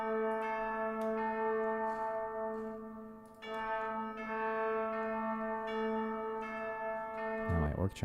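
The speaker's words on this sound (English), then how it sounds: "Orc chimes are way too loud." Orchestral chimes in a live music mix ring out in sustained, bright metallic tones, struck in a slow repeating pattern with long overlapping decay, loud and alone, ending with a brief noisy clatter.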